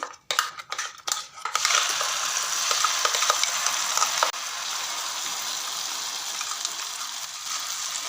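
A paste of cashew, raisin and ginger with turmeric hits hot fat for paneer bharta, opening with sharp clattering scrapes before settling into a loud, continuous sizzle that eases slightly midway.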